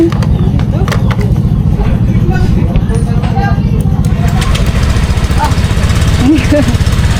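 A motorcycle engine runs close and loud with a steady, throbbing low rumble that never lets up, while people talk over it.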